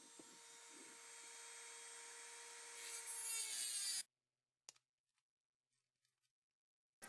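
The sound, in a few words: cutting blade cutting through a metal nut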